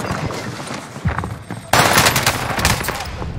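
Loud, rapid gunfire from the video game Warzone, with dense bursts of shots that intensify sharply midway and continue as a sustained barrage, set against a noisy battlefield background.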